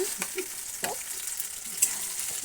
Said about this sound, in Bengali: আবার নেড়ে দিচ্ছি।